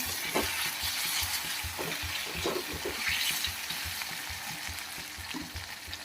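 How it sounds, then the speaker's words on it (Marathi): Potato pieces frying in oil in a pan, a soft steady sizzle broken by the scrape and clatter of stirring, close and quiet. "हा बटाटा बटाटा जो आहे तो छान असा तेलामध्ये परतून घ्यायचा आहे चांगला"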